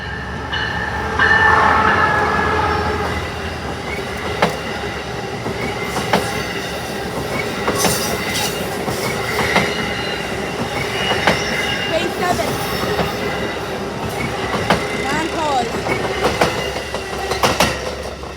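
An Amtrak passenger train runs southbound with an LC42 locomotive leading, a loud steady roll of wheels with rhythmic clickety-clack over rail joints and occasional squeals as the cars pass close by.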